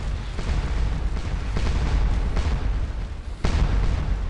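Artillery pounds a church in the Napoleonic battle game Scourge of War: Waterloo, a dense rolling barrage of deep booms overlapping one another, with several sharper, louder blasts standing out, heard without any talk.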